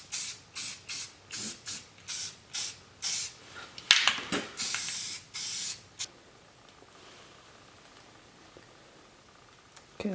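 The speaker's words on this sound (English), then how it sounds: "So we're just going to give this a quick little coat of paint." A spray can coats a part black in a series of short, evenly spaced hissing bursts followed by a couple of longer sprays, close and fairly loud, then quiet.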